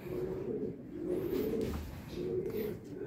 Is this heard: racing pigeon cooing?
yes